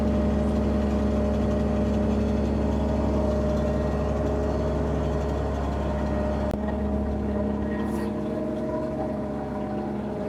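An amphibious Duck tour vehicle with wheels and a Z drive runs its engine on the Cape Town waterfront, a steady low idling drone that holds loud throughout and eases slightly near the end.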